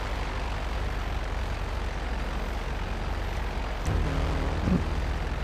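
Sparrow helicopter in GTA Online flight, a steady, dense rotor and engine roar filling the whole stretch, with a brief louder swell near the end.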